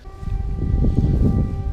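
An air raid siren sounds during a day at a rented fishing lake, its steady, sustained wail carrying from a distance over heavy low rumbling and wind-like rustle.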